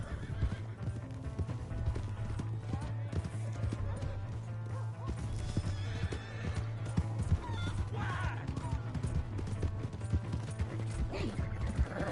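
Horse hooves clip-clop at a gallop in Red Dead Redemption 2, with loud neighs and whinnies over a steady low hum and mechanical clicking, continuous throughout.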